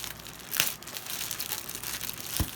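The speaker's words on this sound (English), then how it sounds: "Let me unwrap it here." Close, crinkly rustling of plastic wrap being peeled off a pack of 5-inch fabric squares, a continuous crackle with a couple of sharper crinkles.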